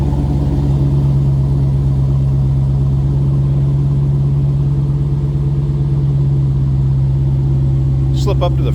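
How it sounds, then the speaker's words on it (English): A deep, steady idle from a 2022 Dodge Challenger Hellcat Redeye Widebody rumbles continuously and loudly, heard from behind the car, with a lumpy low throb throughout and a brief higher clatter near the end. "Slip around to the back so you can hear this run at idle anyway."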